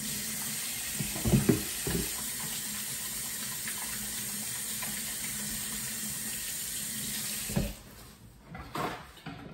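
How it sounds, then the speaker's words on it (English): A kitchen faucet runs steadily while someone washes their hands, a close, even rush of water broken by soft splashes and hand movements before the flow cuts off near the end. "I gotta wash my hands."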